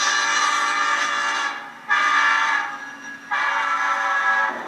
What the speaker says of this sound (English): this is a typical locomotive like you'd see hauling freight